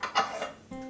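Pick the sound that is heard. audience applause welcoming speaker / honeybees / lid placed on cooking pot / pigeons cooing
lid placed on cooking pot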